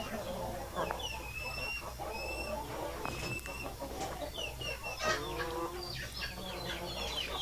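Chickens cluck and squawk steadily inside a coop on a free-range farm, a busy overlapping chorus with someone talking over it.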